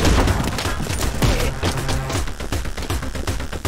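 Rapid gunfire from the first-person action game Anger Foot: a dense, continuous volley of loud, close shots with booming low ends, packed together almost without gaps.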